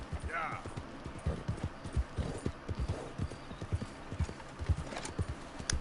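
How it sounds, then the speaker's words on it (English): Horse hooves clip-clopping at a walking pace in Red Dead Redemption 2, a steady rhythm of close, distinct thuds running throughout, with someone talking over them. "Throw them on the back of Dream On, my horse"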